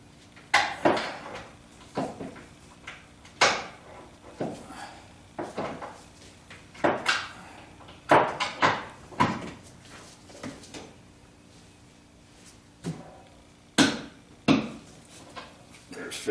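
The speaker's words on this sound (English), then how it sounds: "so just gonna torque it" A torque wrench ratchets on a body mount bolt of a 1976 Corvette, giving a series of sharp, close metallic clicks and knocks in irregular bursts with quiet gaps between.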